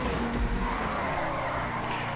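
A car engine roars steadily while tires squeal and skid as the car fishtails in a GTA 5 race, a continuous smear of noise, loud and close, with no talking.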